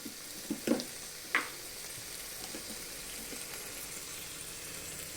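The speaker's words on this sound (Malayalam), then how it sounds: "ഇതിലേക്ക് ലാശം നെയ്യ് ഒഴിക്കാം" Quiet sizzling as ghee is poured into a hot pan, with a few soft clinks and scrapes early on, then a low steady fry.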